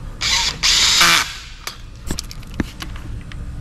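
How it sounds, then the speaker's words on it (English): Engine bolts are tightened with a small digital Snap-on torque wrench set to 18 foot-pounds during a motorcycle top-end assembly, heard as two loud sustained ratcheting bursts followed by scattered metallic clicks and knocks up close. "And Scott, there's a torque wrench all set up. That little digital one."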